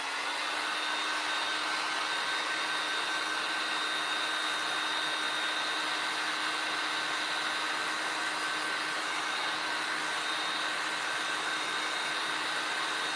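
A hair dryer blows steadily on painted craft pumpkins, a constant loud whir with no pauses, running alone without talk for the full stretch.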